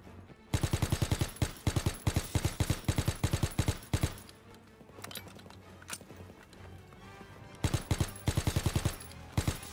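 Rapid bursts of gunfire in a WWII prop hunt video game, aimed at a yellow barrel, crack out in fast, loud volleys of many shots, pause briefly, then resume with another dense string of shots.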